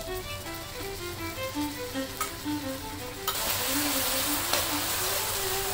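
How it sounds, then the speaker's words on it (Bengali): Onion paste sizzles and fries in a pan of browned chopped onions while cooking a country chicken curry, a steady close hiss with a pitched tonal hum running underneath and rising louder partway through. "পেঁয়াজটাকে আমি একটু 1-2 মিনিটের মতো একটু ভেজে নেব"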